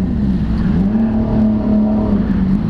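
A BMW R1200GS-A K51 adventure motorcycle with a quickshifter accelerates under a steady, loud engine drone, its pitch rising and dipping slightly as the revs change, with no voices.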